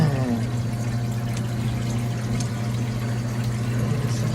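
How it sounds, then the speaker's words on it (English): Water runs down the chilled evaporator of an ice machine during pre-chill, a steady pouring wash over a constant low mechanical hum from the unit, close and continuous with no talk. "water is going to start flowing down."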